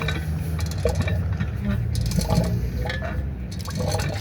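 Water splashes and trickles unevenly from a water-feature tap at the former Wodonga railway station, a close, bubbling, sputtering flow over background noise, with speech mixed in.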